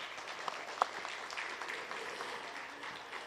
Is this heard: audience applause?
yes